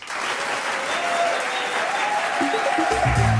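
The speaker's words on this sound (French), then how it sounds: "Applaudissements, mesdames, messieurs." Studio audience applause on a French radio-television quiz show, a steady dense wash of clapping throughout, with a jingle-like tonal sound coming in near the end.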